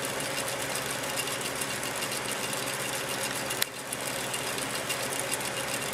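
A fan spinning while driving a small electrical generator in a magnet lab setup gives a steady, dense whirring drone at constant loudness, broken by one sharp click near the end.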